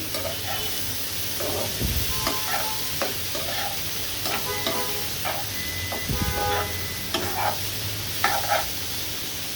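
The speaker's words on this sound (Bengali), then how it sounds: "এখন করলা ভাজিটা আবার নেড়ে চেড়ে দিচ্ছি" Fried bitter gourd (karela) being turned in a pan, spatula scrapes and clinks recurring irregularly over a steady soft sizzle, moderately close, no talk.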